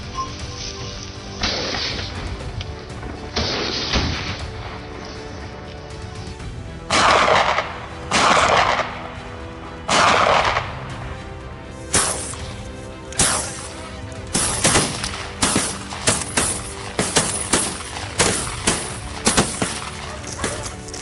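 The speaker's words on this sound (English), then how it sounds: "a cold, precise shot into the air" A hunter's rifle fires during a wild boar hunt on a farm, loud sharp reports recurring irregularly and then in a quicker cluster of cracks toward the end, over a background bed.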